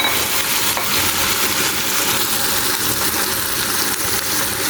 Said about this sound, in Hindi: ये देखिए अब अच्छा सा भुनाई सी होने लगी है।